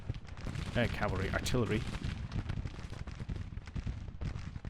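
Artillery fire in the strategy video game Grand Tactician, with repeated booming blasts and crackling bursts across the scene while a voice talks over them.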